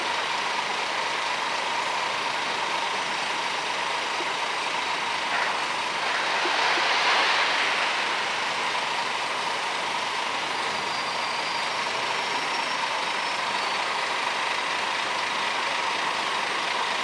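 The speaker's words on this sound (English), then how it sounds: "There's the train, come on." A steady broadband rumble of a train passing at a distance at Avonmouth Docks, swelling slightly midway, with a continuous mechanical roar throughout.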